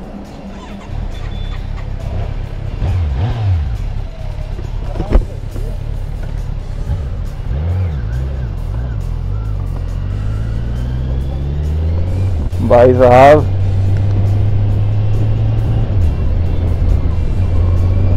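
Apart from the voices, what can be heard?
Kawasaki Z900 motorcycle engine while riding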